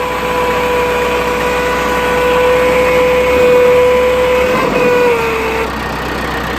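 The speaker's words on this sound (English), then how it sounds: "Kind of sounded like a hydraulic pump or something wasn't quite doing what it was supposed to do." A steady mechanical whine from a faulty tractor hydraulic pump hums over the idling tractor engine, strains louder midway, then drops in pitch and fades, leaving the engine running.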